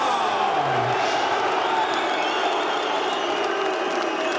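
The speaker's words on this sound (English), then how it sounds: "Huge ovation for the champion. And perhaps as many boos as there are cheers." Packed boxing weigh-in crowd greeting super middleweight champion Carl Froch with a roaring ovation, cheers and boos mixed into one sustained, loud wall of crowd noise with a commentator talking over it.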